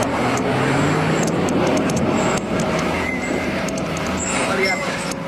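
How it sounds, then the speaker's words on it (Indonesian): Large trucks hauling soil rumble steadily along a steep hill road at a construction site, a continuous loud engine and road roar with people talking over it. "Nah itu truknya."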